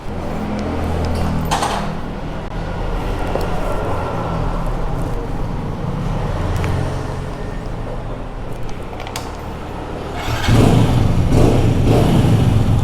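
A modified Hero Splendor motorcycle engine runs steadily nearby with a low rumbling drone, then revs up louder and rougher near the end.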